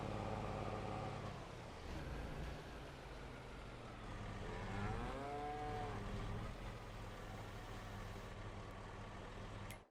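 Cattle in the farming game Farming Simulator 22 give a drawn-out moo in the middle, set against a steady low engine-like drone from farm machinery.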